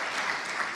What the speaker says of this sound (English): Please, the biggest applause because it's the ending startups of today.